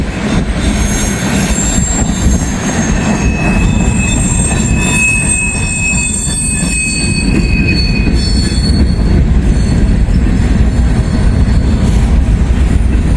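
A train rolls past loudly and close, a heavy continuous rumble with high metallic wheel squeals drifting over it.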